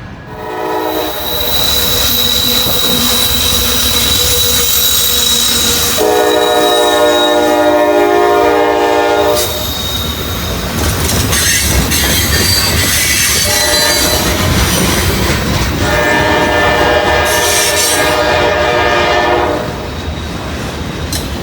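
Trains pass close by and loud, with a long, steady rumble of rail cars and clattering wheels, a few sustained horn blasts and some squealing wheels throughout.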